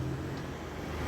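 Traffic in a dark Lagos street during a power outage, okada motorcycle taxis and buses going past as a steady, faint engine drone and rumble with no clear single pass.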